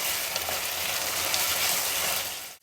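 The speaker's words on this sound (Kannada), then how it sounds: "ಇದನ್ನೀಗ ಒಗ್ಗರಣೆಯಲ್ಲಿ ಚೆನ್ನಾಗಿ ಹುರಿಬೇಕು" Field beans (avarekalu) fry in a hot oil tempering with a steady, close, crackling sizzle and occasional stirring scrapes, no voices.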